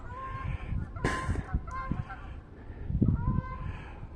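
Canada geese honking in snowy March woods after an ice storm, several loud calls overlapping near and far over wind, with someone speaking between them.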